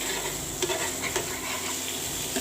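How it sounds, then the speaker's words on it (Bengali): Leafy greens frying in a pan with ground cumin are stirred with a utensil, sending a continuous close sizzle broken by a few scraping strokes, with no voices. "এগুলোকে ভালোভাবে নেড়ে দিব।"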